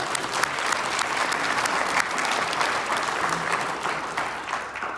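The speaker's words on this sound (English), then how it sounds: "Yes, please, you can clap for them." Applause from an audience at a Justice of the Peace candidate debate in Potter County, a steady dense wash of clapping lasting several seconds with no voices over it.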